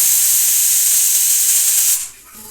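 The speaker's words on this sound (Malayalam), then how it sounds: "മൂടി വെച്ചിട്ട് ഒരു 7-8 വിസിലോളം കേൾപ്പിക്കണം" A pressure cooker on a home stove, simmering Kerala-style beef curry, lets out a loud, steady jet of hissing steam for about two seconds before the hiss cuts off abruptly, leaving a quieter background.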